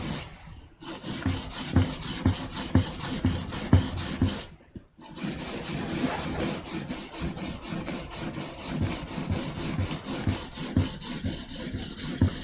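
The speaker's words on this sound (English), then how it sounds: "This part now is the actual sharpening." Steel blade rubbed back and forth on a sharpening stone at the bevel stage, a steady rasping scrape repeating in a regular rhythm, close and fairly loud, with two brief pauses and no speech.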